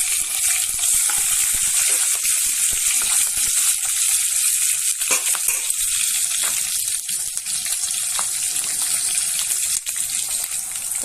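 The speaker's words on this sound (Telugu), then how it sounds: "పచ్చిమిర్చి ఫ్రై అయిపోయింది." Green chillies with curry leaves and a pinch of asafoetida frying in hot oil for a spinach curry, giving a steady, loud hiss and crackle that runs unbroken throughout with no voices.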